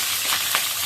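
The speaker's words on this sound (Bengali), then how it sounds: "মাছের মাথাটা ভাজা হয়ে গেছে" A fish head fries in hot oil in a pan with potatoes, making a steady, bright sizzle and hiss close up. There are a couple of faint spits and no voices.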